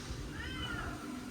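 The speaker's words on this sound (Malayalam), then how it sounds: "അവിടെ ഒരു പൂച്ച ഉണ്ട് കേട്ടോ" A house cat gives a single short meow, close by and clear over a low background rumble.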